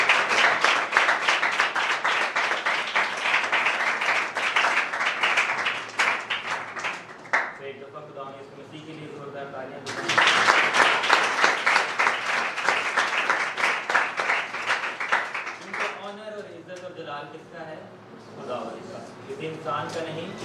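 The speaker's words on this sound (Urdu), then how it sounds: "آپ کی بھرپور تالیوں میں" A church congregation at a Sunday service applauds in sustained, dense clapping that fades twice into a speaker's voice over a microphone and then swells again.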